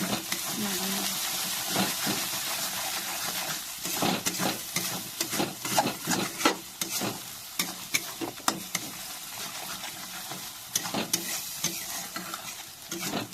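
A spoon scrapes and stirs spicy chicken curry with salt in a hot pan, steady sizzling frying under irregular clattering strokes, close and moderately loud.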